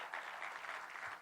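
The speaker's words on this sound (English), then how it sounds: "Give him a round of applause" An audience at a city event applauds a mayor, a short burst of steady, dense clapping with no voices on top.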